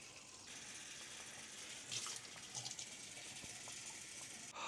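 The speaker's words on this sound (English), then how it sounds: "I'm just gonna put this into the moss pole and just slowly run the water" Water trickles slowly over a moss pole while a philodendron is watered indoors, a soft, faint continuous stream with a few small splashes and no voices.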